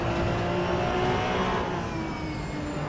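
A race car engine in the Assetto Corsa EVO racing game drones loud and steady throughout, with a sustained high tonal whine and a rough low rumble. A faint tire squeal may be present, and no one speaks.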